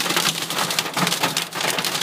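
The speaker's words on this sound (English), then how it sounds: "That noise, ladies and gentlemen, that is hail, rocks, and ice." Hail and ice rocks pelt the ground during a Texas hail storm, a dense, loud, continuous rattling patter with sharper impacts scattered throughout.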